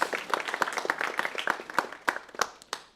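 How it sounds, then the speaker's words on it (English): Audience applause at a startup pitch event, a steady patter of many hands clapping with sharp individual claps standing out, fairly close, tapering off toward the end. "So, applause to Michaels"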